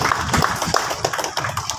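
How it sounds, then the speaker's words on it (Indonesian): Audience clapping at a Papua Barat Daya thanksgiving gathering, a loose scattered patter of hands that swells and thins in short bursts, fairly close and moderately loud, with no voices over it. "mari kita kasih tepuk tangan sekali lagi"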